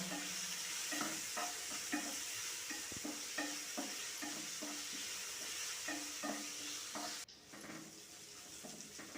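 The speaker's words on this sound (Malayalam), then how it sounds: "ഇഞ്ചി വെളുത്തുള്ളിയുടെ ചതച്ചത് എല്ലാം ചേർത്ത് നന്നായി ഒന്ന് വഴറ്റിയെടുക്കുക" Cinnamon, ginger and garlic sautéing in a pan for a soya chunk masala curry, a soft sizzle beneath repeated rhythmic scrapes of a stirring spoon, close but quiet, easing off near the end.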